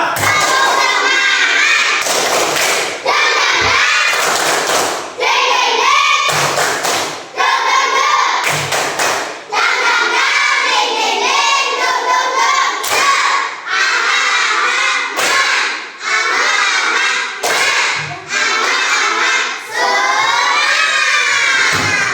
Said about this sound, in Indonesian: Yang tadi tepuk semangat, tapi yang lebih semangat lagi, oke?